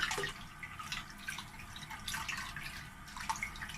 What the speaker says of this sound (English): And now we can give them a good rinse.